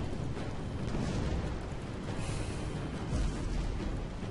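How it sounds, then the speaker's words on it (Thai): A gun turret fires in the naval combat game Battle Stations Pacific, making a dense, loud, rumbling roar of blasts that blur into one continuous barrage. "ต้องยิงด้วยป้อมปืน"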